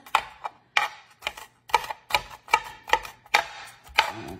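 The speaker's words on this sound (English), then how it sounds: "You're cutting good right now." A knife chops food on a cutting board in a home kitchen while a crockpot dinner is prepared, with about a dozen crisp, fairly regular taps close by and no talk.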